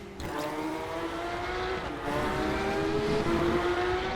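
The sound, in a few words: Porsche 911 race car engine in RaceRoom video game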